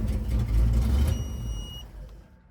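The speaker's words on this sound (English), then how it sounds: "And that beeping noise you hear is the e-stop e-brake," Thin, high electronic beeps from the electronic brake sound over a low rumbling engine of a fuel-injected, supercharged big-block 1969 Camaro, fading as the rumble settles.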